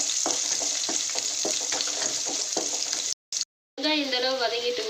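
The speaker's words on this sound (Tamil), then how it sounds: "வெங்காயம் எண்ணெயிலே நல்லா வதங்கட்டுங்க" Sliced onions fry in oil for a chicken gravy, giving a continuous bright sizzle with soft stirring taps, then a brief cut-out before the sizzling resumes, bubbling.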